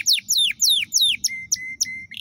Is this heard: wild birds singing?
yes